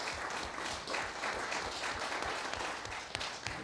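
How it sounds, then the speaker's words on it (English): A small audience at an evening fireside chat gives a quick round of applause, steady mid-level clapping throughout with no talk over it. "can we have a quick round of applause for Dan to thank him?"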